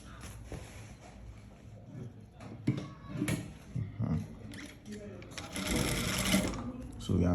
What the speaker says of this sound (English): So we are sewing the zip and the cover and the trouser crotch together.